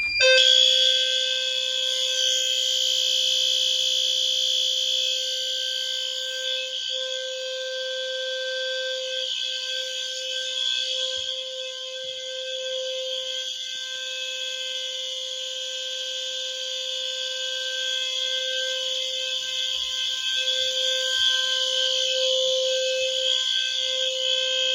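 A Fire-Lite MRP-2001 fire alarm system sounds on continuous low, a steady piercing electronic tone with bright high harmonics that drones without break, fairly loud and close.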